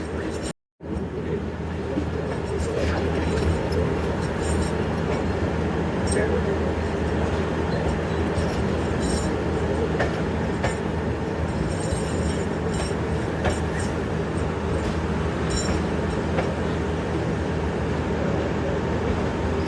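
Sialkot Express passenger train running on the tracks through open country, a loud continuous rumble with rhythmic wheel clatter and rattling carriages heard from on board.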